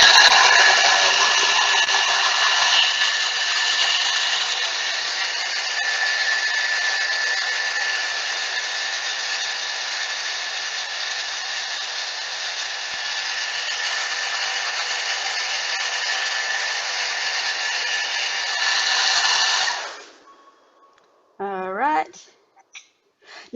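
A lidded kitchen mixer at speed 8 blends batter for Brazilian cheese puffs, a loud, steady whirring drone that holds for about twenty seconds and then cuts off, followed by a brief voice.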